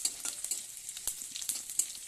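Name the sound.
panch phoron spices sizzling in hot oil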